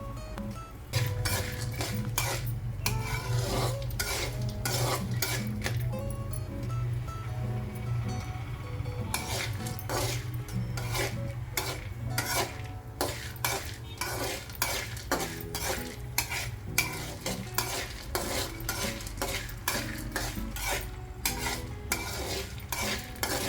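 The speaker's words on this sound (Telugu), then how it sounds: "కొంచెం వేపి ఆ తర్వాత మినపప్పు వేసుకోవాలి." Chana dal and urad dal frying in a pan with steady stirring, a spoon scraping and clinking against the metal over a continuous low sizzle, close and fairly loud with no talk.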